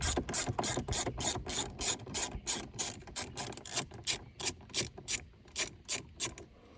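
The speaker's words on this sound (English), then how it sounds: "Grab your ratchet, your 10mm," A 10mm ratchet backs out a factory bolt on a Jeep JL, a close run of rapid clicking strokes in quick repeated bursts, loud and crisp, steady throughout with no talk.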